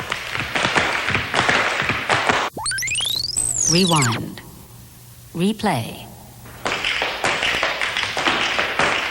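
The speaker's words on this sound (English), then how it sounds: "The sound is tap dancing." Tap dancing feet rattle out quick, crisp clicks and shuffles in bursts, broken by whooshing rewind and replay effects, with a voice speaking briefly over it.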